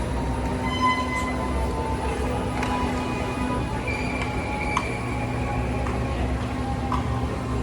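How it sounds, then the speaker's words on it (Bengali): An airport AirTrain at Jamaica, New York rumbles steadily along its track, a continuous low mechanical drone with faint clicks and hums, fairly close and without any talking. "দুই এক মিনিট দেড় মিনিট অন্তর অন্তর এয়ার ট্রেন ছাড়ে"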